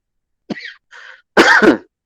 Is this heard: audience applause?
no